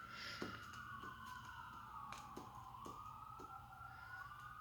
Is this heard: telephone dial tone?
no